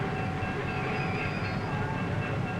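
A steam-era train with a big engine stands at a station during boarding. A steady, dense rail rumble with a faint hiss fills the scene, with no talk heard.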